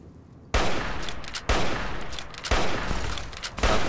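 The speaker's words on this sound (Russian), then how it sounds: "Согласитесь, выстрел был хорош." Four sharp gunshots ring out at roughly one-second intervals in the video game Fallout New Vegas, each a loud crack followed by a rumbling tail, with no talk over them.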